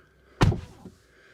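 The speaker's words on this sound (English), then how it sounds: "closing the door" The door of a 2023 Mansory Ferrari Roma swings shut with a single solid, close thud and a short dull settle afterward, heard alone in a quiet space.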